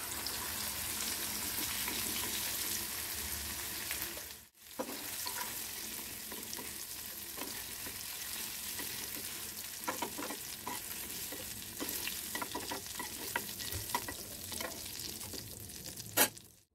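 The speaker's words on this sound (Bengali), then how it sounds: "এরকম হালকা হালকা ভাজলেই হবে। এপাশ ওপাশ করে ভেজে নিয়েছি" Cubes of paneer and cashews fry lightly in a frying pan, giving a steady close sizzle with scraping stirs and turning clatter; the sound cuts out briefly, then the sizzling resumes.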